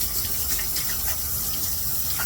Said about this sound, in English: rinse my hands off here real quick